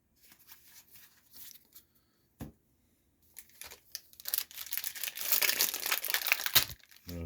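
Cardboard and plastic packaging on a Magic: The Gathering collector box is ripped open by hand without scissors, starting with a few small crinkles, then a sharp tear and a long stretch of loud crumpling and tearing near the mic.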